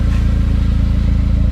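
A Saab 9-5 wagon running through a Flowmaster muffler, with a loud, deep, even exhaust drone and a fast rhythmic pulse at steady idle. The note is somewhat brash and nearby, with no voices over it.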